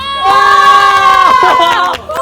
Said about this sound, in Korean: 박수로 맞아요